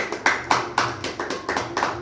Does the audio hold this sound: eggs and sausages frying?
no